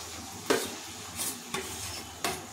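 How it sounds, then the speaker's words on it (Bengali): A spoon scrapes through spice masala frying on medium-low heat in a pan, three or four distinct stirring strokes over a soft, constant sizzle, close and without talk. "মিডিয়াম টু লো ফ্লেমে মশলাটা কষিয়ে নিচ্ছি।"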